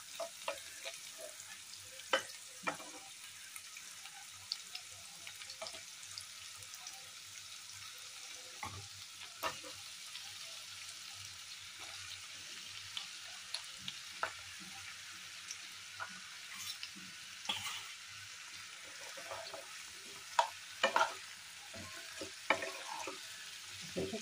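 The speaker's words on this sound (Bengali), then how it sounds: "এই যে এখন আমি ভেজে নিচ্ছি।" Onion and pointed gourd sizzle softly in a pan while being stirred, a quiet steady fry with scattered scraping clicks of a utensil.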